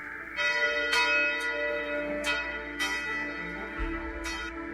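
Church bells ring in a slow, uneven series of strikes, each note lingering and overlapping into a rich, resonant hum.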